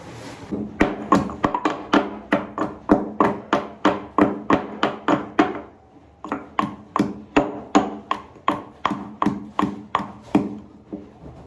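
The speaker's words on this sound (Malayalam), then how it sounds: "നന്നായിട്ട് വെളുത്തുള്ളിയും നമ്മുടെ ജിഞ്ചറും നന്നായിട്ട് ഇതുപോലെ ക്രഷ് ചെയ്തെടുക്കണം" Garlic and ginger crushed by hand for a home cooking dish, a steady run of loud, close, rhythmic pounding thuds, about two per second, with a brief pause midway before the strikes resume.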